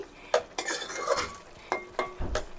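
A prawn curry is stirred in a pan, with several sharp metal spatula clinks and scrapes against the pan over a quiet sizzle and no voices.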